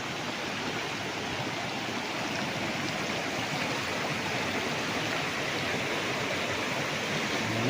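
River water flowing steadily beside a farm lot in Liliw, Laguna, a constant even rushing wash with no breaks or voices, moderately close.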